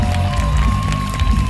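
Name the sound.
concert audience applauding and cheering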